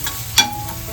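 Onion and tomato sautéing with chilli masala and turmeric in a pan, a steady close sizzle with one sharp stirring scrape, no speech.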